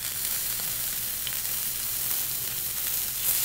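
Food sizzles and fries steadily on a Lodge cast iron griddle used for indoor grilling, a continuous close crackling hiss with no voices.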